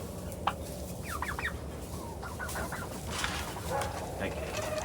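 Turkeys in a flock chirp and cluck in short, quick bursts with a sudden sharp call near the start, all set against a steady rustling outdoor background.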